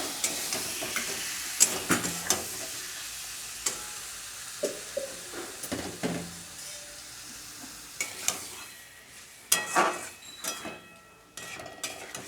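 Ground spices being sautéed in a pan for a Bengali tangra fish curry with potato and cauliflower, with repeated stirring scrapes and light sizzling and a few sharp clinks of a utensil against the pan.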